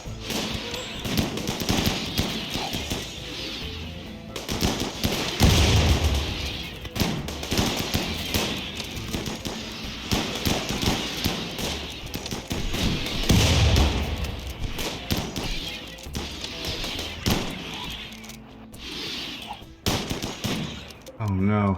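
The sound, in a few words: grenade explosion and gunfire in RimWorld video game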